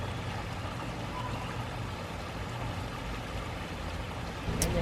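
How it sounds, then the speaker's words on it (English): Cascading water rushes steadily below a long bridge in a park, a broad constant outdoor roar without talk, ending with a brief bright click. "you get to stand up here in the nice cool shade and hear the cascading water"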